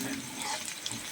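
Peanuts stirred and roasting in a pan for a quick breakfast snack, a short close crackling sizzle with faint scraping, no talking.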